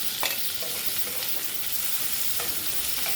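Chopped onion, onion paste and chopped tomato frying together in oil, a dense, loud, continuous sizzle close up with a few faint spatula taps and no talking.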